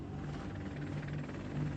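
A group of military helicopters, Hueys and a Sea Stallion, heard as a steady close rotor drone with a low rhythmic throb, continuous and without breaks.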